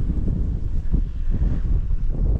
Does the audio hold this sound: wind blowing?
yes